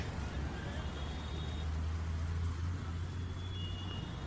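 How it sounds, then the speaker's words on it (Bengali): Steady low rumble of idling and creeping cars, trucks and buses in a Kolkata traffic jam near Salt Lake, with faint distant horns; a continuous close engine drone runs throughout. "কলকাতার এই ট্রাফিক জ্যামটা কিন্তু বেশ উপভোগ করি,"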